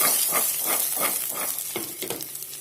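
Sweet corn sizzles in hot oil in a pan as it is stirred, with a steady frying hiss broken by a regular series of scraping stirs, close and moderately loud.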